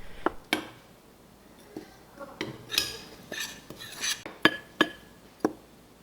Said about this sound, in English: You add in a dashi soup into it and mix them well like what I'm showing you right now.